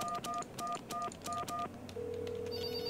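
Phone keypad tones from the video game Finding GiGi, six quick evenly spaced beeps dialing a number, followed by a steady ringback tone as the call connects.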